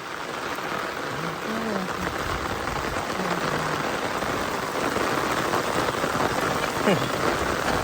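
Steady rain pattering on a surface in a Konkan rice field, a dense close hiss with faint voices underneath.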